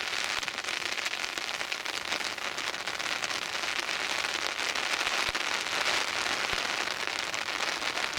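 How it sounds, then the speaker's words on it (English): Wind and rain sweep across a river bank on a dreadful autumn afternoon while barbel fishing, a dense, steady hiss of rainfall with occasional soft taps and no voices. "See the wind and rain sailing through those bushes on the other bank."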